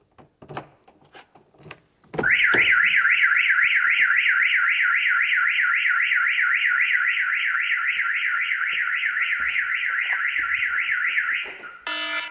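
An Audi car alarm, triggered by a keyless entry relay attack, blares a rapid, warbling siren tone, steady and loud for about nine seconds before cutting off, following a few faint clicks.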